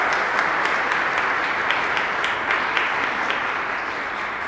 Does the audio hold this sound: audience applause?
yes